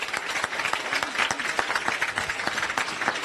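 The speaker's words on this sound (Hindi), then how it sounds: "तो तालियां बजा दीजिए बच्चे के लिए आप सभी।" Audience clapping for a student who placed fourth across Haryana, a dense burst of many hands with sharp individual claps standing out, steady and close throughout.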